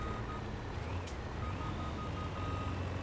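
Truck reversing beeps in Farming Simulator 22, a steady repeating electronic beep over a low engine rumble, moderately loud and continuous, with no voices.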